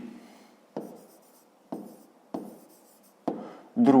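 Chalk scratches across a classroom board during a fifth-grade maths lesson on triangle sides: five short, sharp strokes at uneven intervals, each starting with a tap and fading in a scrape, close and alone with no talking.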